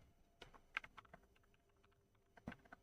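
Keys clack on a pink mechanical keyboard in sparse, irregular taps, a few louder strikes among lighter presses, close and alone in a quiet room.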